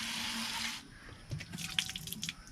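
Tap water running into a container while the water is changed for plant propagation cuttings: a steady hissing flow that stops, followed by light drips and splashes nearby.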